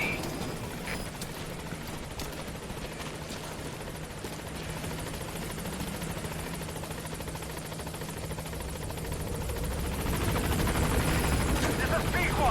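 Support helicopter arriving at a landing zone in Metal Gear Solid V, a steady rotor drone with faint clatter building louder toward the end, mixed with game ambience.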